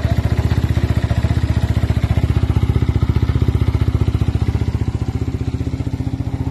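Yamaha Y15 motorcycle engine with a 57 spec build and racing bearing held at high revs, a loud, steady, rapidly pulsing buzz with a fast even firing rhythm that barely changes throughout.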